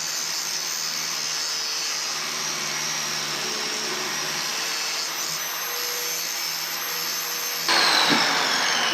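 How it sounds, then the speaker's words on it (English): Power grinder cutting a metal tab off during work on a project vehicle; a steady, loud high-pitched whine runs continuously close by, rising slightly in intensity near the end. "I am gonna have to grind that tab off"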